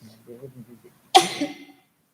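One sharp, loud sneeze bursts out in a meeting room right after some quiet talking, then fades quickly into silence.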